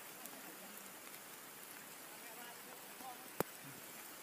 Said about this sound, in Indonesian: Oke, hujan sudah lebat.